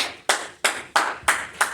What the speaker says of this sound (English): Feel free to join me in a round of applause for the scholars in the room.